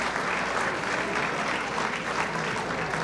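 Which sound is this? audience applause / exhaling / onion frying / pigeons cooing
audience applause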